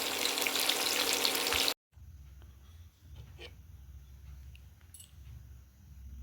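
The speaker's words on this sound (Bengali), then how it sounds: "ফুলকপি ভাজাটা বসিয়ে দিয়েছি ফুলকপি দুবার ভাজতে হবে" Cauliflower frying in a pan on an induction cooker, a loud, dense sizzle that stops sharply, then continues as a softer, steady low frying hiss with faint clicks.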